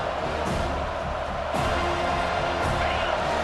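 A home crowd in the College Football 25 video game cheers at a third-down stop, a steady, dense roar of stadium noise that surges slightly partway through.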